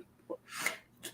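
A single sneeze bursts out during a relaxed studio conversation, brief and fairly soft, with a quick breathy intake just before it.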